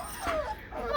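A white German Shepherd puppy whimpers and yips in high, wavering whines, close and fairly loud, in one short burst.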